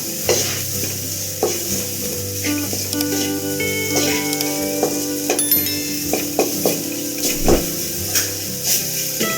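Sambar powder and spices roasting in a pan for rasam rice, with a continuous dry sizzle and repeated scraping stirs of a utensil against the pan, over a steady tonal background hum.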